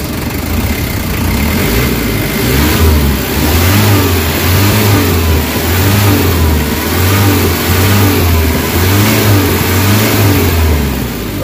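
A Nissan Vanette engine with low power and throttle delay revs repeatedly, rising and falling in a steady cycle of throttle blips, loud and close over a constant mechanical drone.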